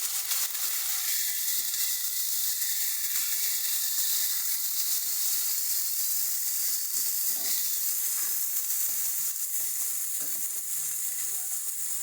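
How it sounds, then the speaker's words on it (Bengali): Spice paste with turmeric, chili powder and salt fries in a pan for a small-potato dal, a dense, steady hiss of sizzling that holds evenly and close for the whole stretch. "ভালো করে মশলাটাকে কষিয়ে নিচ্ছি"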